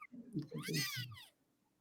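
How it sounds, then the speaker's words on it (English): A five-day-old kitten gives a thin, high meow near the microphone, a short squeaky cry lasting about a second, then fades into quiet. "It's a kitten, like 5 days old."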